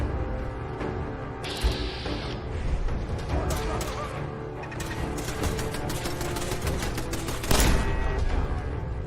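Gunfire and mechanical clicking from the video game Fallout 4, with bursts of shots and ratcheting weapon sounds over a busy, continuous game soundscape.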